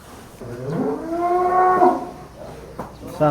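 A single long, drawn-out moo from a roughly one-ton sacrificial cow, loud and close, rising and then falling, with faint background noise around it.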